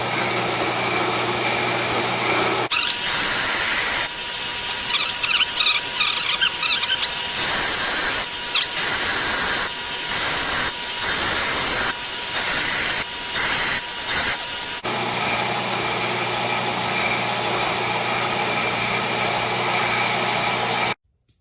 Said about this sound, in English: So go ahead and kick our grinder on.